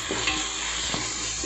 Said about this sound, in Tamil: ஆட் பண்ணி நல்லா மிக்ஸ் பண்ணிக்கோங்க.